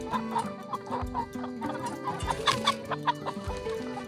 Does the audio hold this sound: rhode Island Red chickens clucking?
yes